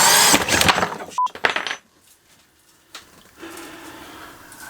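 A power drill runs in short, loud bursts into wood with a rough grinding whir close by, then cuts out into quiet with faint clicks and a low hum, no talk.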